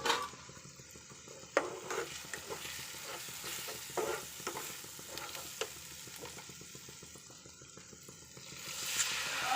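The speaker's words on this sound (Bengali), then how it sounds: "এবারে এর সঙ্গে আমি কিছু গোটা গরম মশলা দিয়ে আমি মশলাটাকে পেঁয়াজ আদা রসুনটাকে কষতে থাকবো।" Whole garam masala with onion, ginger and garlic frying in a pan, steady sizzling broken by repeated scraping stirs and spoon knocks, fairly quiet and close, with no talk.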